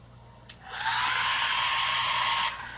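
Hair dryer blowing steadily for about two seconds onto a chalk paint transfer on a reclaimed wooden drawer front board, switching on after a brief click and running loud and close with a constant whoosh, no talking.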